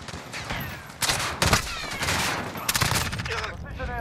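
Gunfire from a Barnett Headhunter Hybrid weapon in Call of Duty Modern Warfare: several sharp, loud shots and bursts ring out in quick succession with clattering in between.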